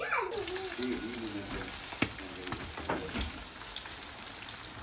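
Squid tentacles fry in a pan of oil with a steady, close sizzle and crackle, and a voice briefly talks over the hiss at the start.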